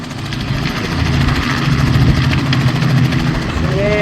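Helicopters working over a bushfire near a beach campsite at Dundee Beach, a loud continuous rotor and engine drone with steady pulsing rumble throughout, close and dominant.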